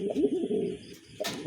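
A male pigeon coos and calls eagerly to a female held before his cage, a close, repeated rolling coo that rises and falls, then a short pause and another burst of cooing.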